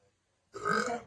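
A single loud, drawn-out burp erupts after a brief silence, lasting about half a second.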